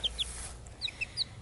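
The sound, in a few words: chicken clucking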